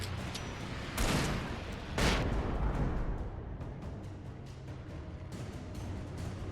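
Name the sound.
flashbang going off in the video game Alan Wake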